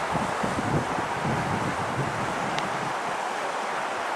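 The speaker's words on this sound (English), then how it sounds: "But listen to this water." Water flows steadily along the Cap Canal at the edge of a property, a broad, constant rushing wash heard close and alone, with some gusty rumble mixed in.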